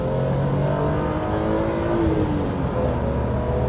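A BMW M3 E36 engine revs hard and accelerates, giving a loud, sustained mechanical howl that shifts slightly in pitch as it pulls, close to the car.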